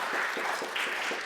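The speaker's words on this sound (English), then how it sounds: "Let's give a great big round of applause for our guest musician today" Applause from a church audience at Unity of Tucson for a guest musician, a short steady wash of clapping with no voices over it.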